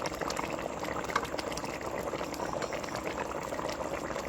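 Chicken curry with potatoes and garlic bubbles steadily in a pot, a continuous close, even simmering burble with no voices over it.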